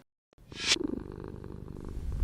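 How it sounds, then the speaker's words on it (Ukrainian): A cat purring steadily and close, a low rumbling vibration that swells slightly, preceded by a brief soft rustle at the start. "Муркотіння кота це не просто приємний звук для наших вух."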